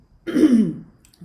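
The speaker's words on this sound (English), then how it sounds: "still dealing with my Delhi pollution cough" A single throat-clearing cough, close and fairly loud, rasps for about half a second during a quiet yoga practice, then fades into near silence.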